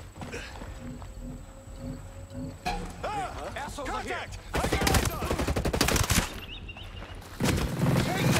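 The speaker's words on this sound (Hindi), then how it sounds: "गोलियां चली तो है" Gunfire from the video game Ghost Recon Breakpoint comes in sharp bursts and rapid automatic volleys, loud and close, with someone talking in between the shots.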